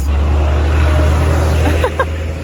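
A fire truck passes on a countryside road during a majorettes show, a loud heavy low engine drone dominating the clip, with brief voices near the end.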